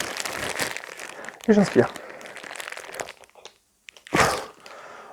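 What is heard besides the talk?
plastic sheet crinkling over FFP2 mask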